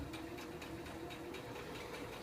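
A sewing machine running steadily while stitching fabric face masks indoors, a continuous close mechanical whirr with rapid needle chatter and no pauses.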